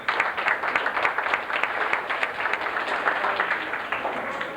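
The audience at an FFA banquet gives a sustained round of applause, many hands clapping in a dense, even wash with a few sharper claps standing out.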